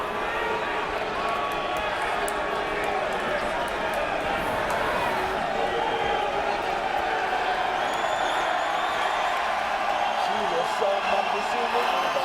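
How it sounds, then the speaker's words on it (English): Boxing crowd at the Gabriel Campillo vs Tavoris Cloud fight, a dense continuous roar of voices and cheering filling the arena, with scattered shouts rising above the wash. "The crowd reacting to Gabriel Campillo"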